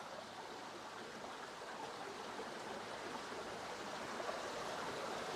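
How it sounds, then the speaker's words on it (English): Waterfall with a low flow of water spilling into a creek, heard close as a steady, dense rushing roar that holds even and unbroken throughout. "get up a little bit closer to the falls this time"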